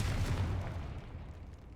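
A Confringo blasting spell bursts in Hogwarts Legacy: a single heavy, booming explosion that hits at once and rumbles away over under two seconds, with no talk over it.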